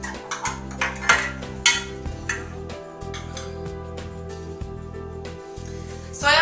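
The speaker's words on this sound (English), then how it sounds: "I always make sure I knock the excess flour out of my cake pans" Greased and floured cake pans, being readied for a lemon poppyseed pound cake, are knocked against a surface, giving several sharp metallic taps and rattles at an uneven pace over a steady low hum, with no talking.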